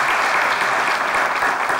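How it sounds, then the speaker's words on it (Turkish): Studio audience at a Turkish comedy show applauding the set design team, a dense, loud, continuous wash of clapping from many hands throughout. "bir alkış alalım lütfen"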